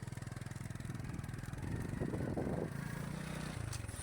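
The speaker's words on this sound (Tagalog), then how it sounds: "So sasakay po ako ng motor." A motorcycle engine running on a rural road beside rice fields, with a steady close rumble that swells briefly as if revving and then settles back to a low idle.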